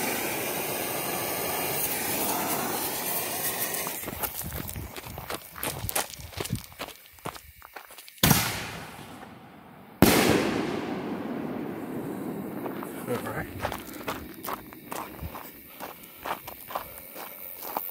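A five-inch Growler firework shell fired from a launch tube outdoors, with two loud close bangs several seconds apart, surrounded by dense crackling and popping, with no talking.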